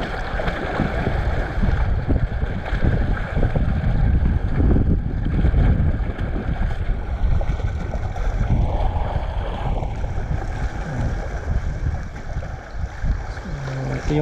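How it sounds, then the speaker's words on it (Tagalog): Strong wind and rough, choppy sea waves at a seaside fishing spot, a continuous roaring rush of water and gusts with no voices. "Hindi lang nakisama ang panahon, maalon, mahangin."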